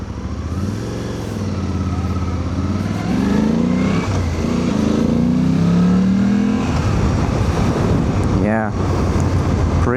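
Engine of a Suzuki V-Strom 800DE motorcycle fitted with a DNA air filter, pulling steadily as it gains speed with rising and falling revs through gear changes, a loud continuous drone with wind noise over it.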